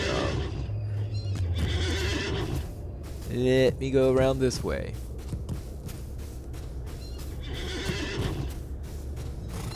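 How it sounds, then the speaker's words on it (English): Horse whinnies loudly in the Lord of the Rings Online game near Helm's Dike, its neigh rising mid-clip amid soft clip-clopping hooves and battlefield ambience, with someone talking over much of it. "I'm going to get my horse through here."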